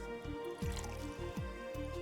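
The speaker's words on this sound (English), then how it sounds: "The sound of pouring the shots in is so" Drink shots poured in the VA-11 Hall-A bartending game, two short liquid pours with descending gurgling drips over a steady music bed.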